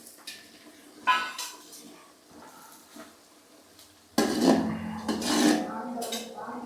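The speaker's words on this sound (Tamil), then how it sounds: "நல்லா வெங்காயம் ப்ரௌன் கலர் வர வரைக்கும் நல்லா கிண்டி விட்டுக்கிட்டே இருக்கணும்" Onions browning in hot oil in a pot with cinnamon, cloves and cardamom for chicken biryani, stirred with a spoon: intermittent scraping and clinking against the pot over a soft, steady sizzle, sometimes louder and closer.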